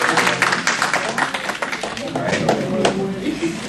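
An audience in a lecture hall claps together in a continuous round of applause, close and fairly loud, with scattered sharp individual claps and voices mixed in.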